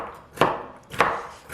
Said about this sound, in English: So we want to make it diced, but thinly diced